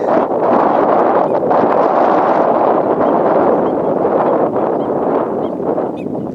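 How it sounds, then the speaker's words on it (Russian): Breeze blowing outdoors on an overcast morning, heard as a steady, loud rushing wind buffeting the microphone without a pause. "Но ветерок дует."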